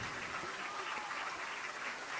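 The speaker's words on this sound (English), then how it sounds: "their fans up on their feet, applauding the efforts of their teams" Baseball fans at a district tournament championship game applaud from a distance, a steady wash of clapping that stays even and fairly faint throughout.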